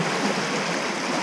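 Lake water rolling in as big rollers, a steady, close, full rush of moving water that fills the whole clip with no voices over it.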